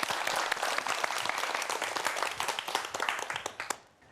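A studio audience welcomes a lecturer to a science talk with sustained, dense applause, many hands clapping steadily before the sound tapers off at the end.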